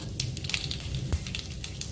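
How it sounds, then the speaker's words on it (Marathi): Mustard seeds crackle and pop in hot oil as curry leaves go in, a quiet scatter of quick sharp snaps over a soft sizzle, close by with no talk. "आता मोहरी तडतडली, कढीपत्ता टाकूया"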